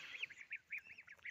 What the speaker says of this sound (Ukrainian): Дуже люблю цих малих гусенят, каченят.